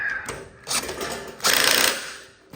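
A torque wrench turns a wire terminal screw on a 60A breaker holding 4-gauge wire for a Tesla wall charger, giving close, bursty ratcheting clicks in a few short pulls.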